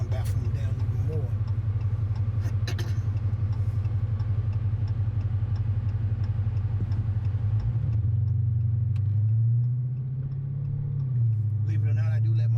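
Dodge Hellcat with its exhaust baffles still fitted gives a steady, deep engine and exhaust rumble close by, which dips and swells slightly toward the end. A voice talks over it.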